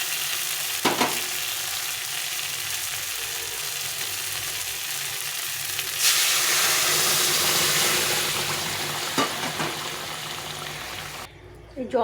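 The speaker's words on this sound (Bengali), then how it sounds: "এখন আমি এই ফুটনো জলটা দিয়ে দেবো" Boiling water poured into a sizzling fish curry with potato and eggplant gives a loud, steady frying hiss with splashy pouring surges, close and continuous.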